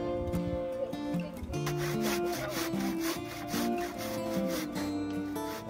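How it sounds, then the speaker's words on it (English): Hand saw cutting through wood for fence posts outdoors, a continuous rasping stroke rhythm at close range, fairly quiet, with no talking. "And Jane does some sawing, and I do some hammering"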